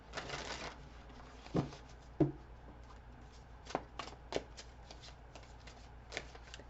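Tarot cards are shuffled by hand for a reading: a burst of riffling near the start, then scattered crisp snaps and slaps of cards close by, with quiet gaps between, and no talking.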